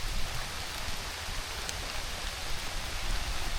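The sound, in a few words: rain falling on a tropical island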